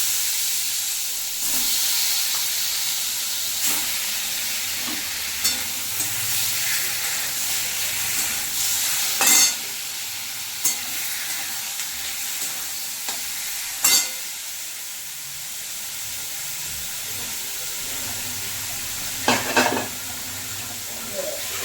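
Chicken pieces marinated in vinegar frying in butter in a pan, a steady soft sizzle and hiss with occasional stirring clatters and sharp utensil knocks throughout.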